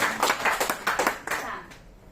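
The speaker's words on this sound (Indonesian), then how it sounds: "Tepuk tangan buat TSS." A small group claps for TSS in a short burst of about eight quick, close hand claps. The claps fade out, leaving quiet room tone.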